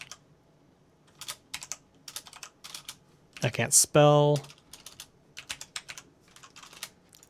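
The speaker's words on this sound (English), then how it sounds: "My microphone's in front of my keyboard and I can't see the keys." Quick bursts of keystrokes clatter on a computer keyboard close to the microphone, broken by a short spoken remark and a brief tonal beep in the middle, then more scattered typing.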